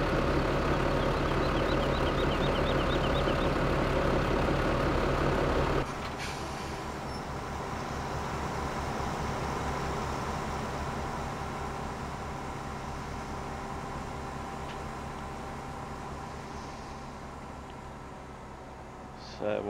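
A combine harvester engine in Farm Simulator gives a steady, loud mechanical drone. Partway through it drops to a lower, softer rumble and then hums on evenly.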